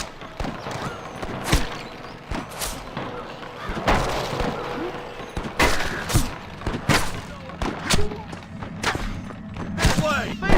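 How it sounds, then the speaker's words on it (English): Gunfire rings out in the video game Red Dead Redemption, with scattered sharp shots and thuds over ambient noise and hoofbeats while voices talk at intervals. "I can hear more gunshots."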